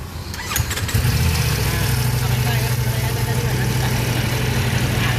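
A Ducati Multistrada V4 Touring motorcycle engine cranks and fires up after a second, then settles into a steady, throbbing idle, close and loud.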